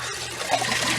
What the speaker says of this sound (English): you can take this water and you can pour it in nice and slow